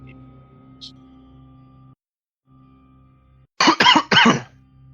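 After a low hum and a short pause, someone close by coughs three times in quick succession, loud and harsh.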